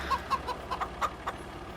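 Chickens cluck in the Farming Simulator 25 farm game, a run of short, quiet clucks repeating every quarter second or so over a low background hum, with no talking.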